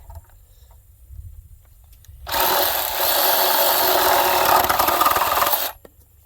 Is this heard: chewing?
no